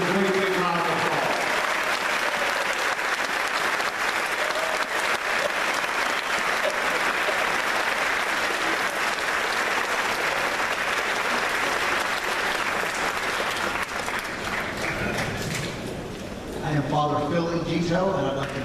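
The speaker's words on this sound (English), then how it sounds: "Let's give all of our elected officials a great big round of applause." A large crowd at a faith-based civic assembly applauds elected officials, a dense, steady roar of clapping sustained for about fifteen seconds before fading as a voice begins speaking.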